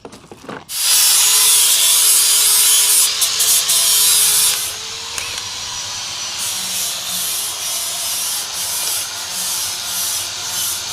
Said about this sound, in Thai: ใส่ดอกสว่านแล้วก็เจาะไม้